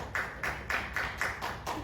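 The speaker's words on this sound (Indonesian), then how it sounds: "tepuk tangan untuk semuanya" Clapping during an online webinar session, a single set of hands striking in a slow, even rhythm of about seven claps, fairly quiet and close.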